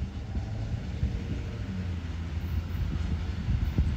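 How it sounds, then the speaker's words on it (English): A loaded taconite freight train rolls past, producing a continuous deep, heavy rumble with rattling wheel and car noise that stays steady and fairly loud throughout. "loaded Taconite train"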